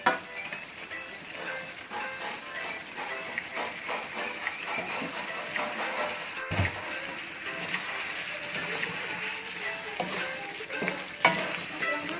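Spiced chicken for spicy ayam goreng bacem is stirred in a pan, a soft continuous sizzle with scraping strokes and the occasional knock of a spoon, fairly quiet and close.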